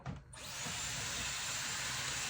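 A hair dryer switched on to its hot setting while styling hair for volume, starting after a brief pause and then blowing as a steady, loud, continuous airy roar close by.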